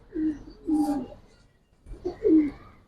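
Giribaz pigeons coo close by in two short bouts of soft, throaty, rolling calls separated by a quiet pause, with faint background noise.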